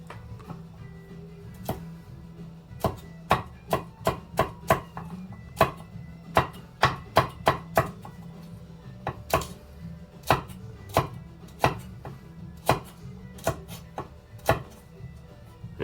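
A knife chops carrots with an oblique cut on a cutting board, giving sharp, crisp strikes that come in uneven bursts over a quiet background.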